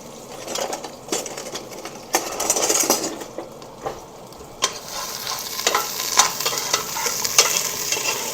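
Garlic sizzles in a pan over medium heat for a curry duck dish, a soft frying hiss broken by scattered stirring clinks and scrapes, with no voices.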